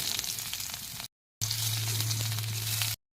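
Onion and cumin seeds sizzle in hot oil for a Bengali fish curry. Steady, close frying hiss in two bursts, a brief silent gap between them and a low hum running under the second.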